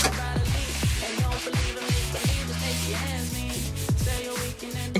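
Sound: hand sanding wood chair with 220 grit sandpaper

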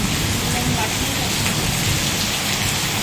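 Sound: monsoon rain

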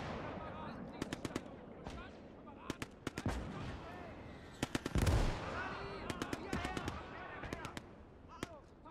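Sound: machine gun fire in Valour video game

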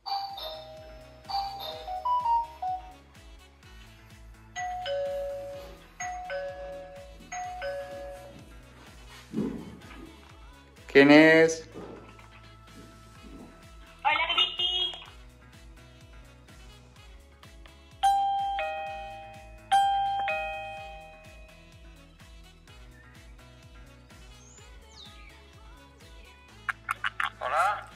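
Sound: smart video doorbell ringing

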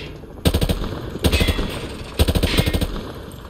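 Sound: automatic rifle sprayed at range targets, Modern Warfare 2 Remastered video game

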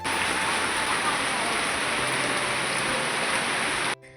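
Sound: rain

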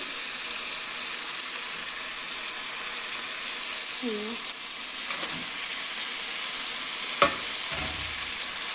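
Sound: fish frying in masala in a pan

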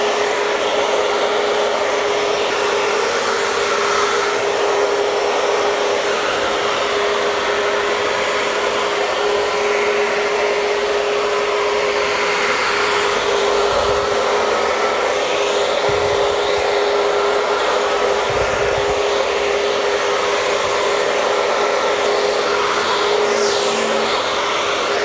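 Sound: hair dryer with diffuser drying hair

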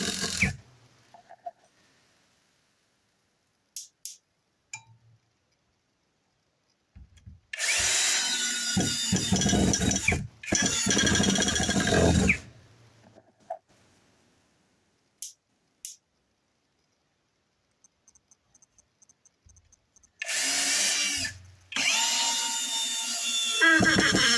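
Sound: Grosser GCD 16/42 cordless drill driving screws into wood

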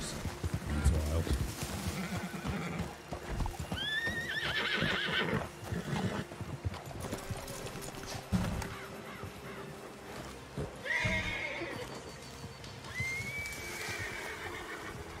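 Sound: wild horse neighing and hooves clip-clopping

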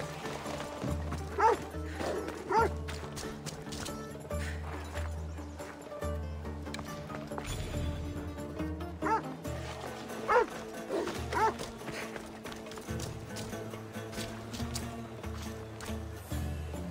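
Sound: dog barking and attacking, Assassin's Creed Odyssey video game

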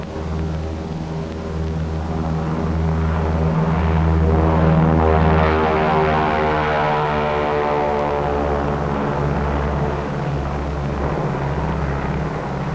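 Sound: B-29 bomber propeller aircraft engines

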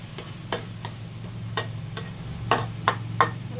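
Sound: stir-frying chili paste until the sugar melts

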